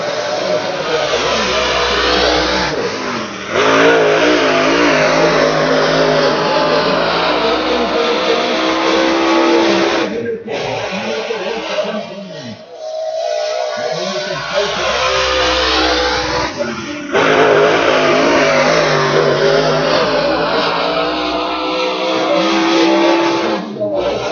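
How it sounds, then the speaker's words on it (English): A red and black Ford Ranger roars loudly at a motor speedway, its engine revs sweeping up and down continuously, dipping briefly before surging again, with a commentator's voice over the noise. "We got a car, a Ford Ranger, red and black Ford Ranger"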